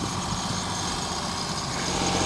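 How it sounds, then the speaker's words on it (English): A small four-cylinder diesel engine on a hydraulic seacan loading machine idles steadily with a low, even rumble and constant broadband noise, close and continuous. "It's just a little four-banger diesel engine and lots of hydraulics"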